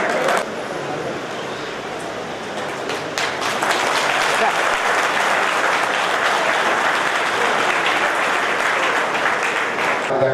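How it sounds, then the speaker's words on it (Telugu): Dense, loud applause from a crowd at a Kargil Vijay Diwas event attended by an MLA. It swells after a brief start and holds steady without a break to the end. "మరోసారి గట్టిగా చప్పట్లతో అభినందిస్తున్నాను సార్."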